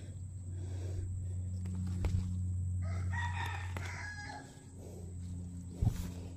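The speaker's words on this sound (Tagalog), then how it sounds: "pag minarinig akong tilaok ng tandang" A rooster crows once, clear and fairly close, over a low steady rural hum, followed by a short rustle near the end.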